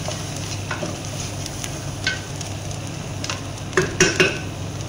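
Ginger paste, chili paste and spices being stirred with meat in a cooking pot for lamb kabsa, a continuous close sizzle broken by a few louder scraping clinks of the spoon against the pot.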